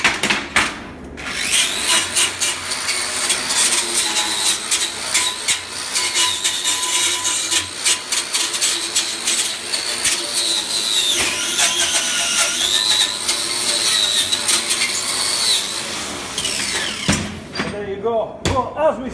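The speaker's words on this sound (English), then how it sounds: "get a bit of a bevel edge brush on the grinder" Bench grinder fitted with a brush wheel, running steadily and loud for most of the span while polishing a bevel edge on metal, with scraping contact and a brief pause near the start before it winds down at the end.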